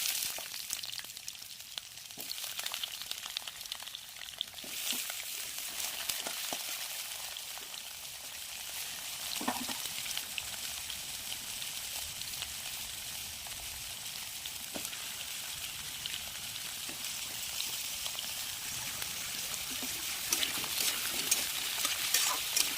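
Bay leaves and cut potatoes fry in hot oil, giving a steady, even sizzling hiss that fills the whole stretch, with occasional soft clinks and stirring sounds and no talking.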